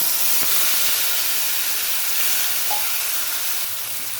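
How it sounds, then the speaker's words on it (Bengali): A loud, steady sizzling hiss fills the clip as marinated hilsa fish hits a hot wok, with no talking. "এই মাছটা দিয়ে দেবো কড়াইতে"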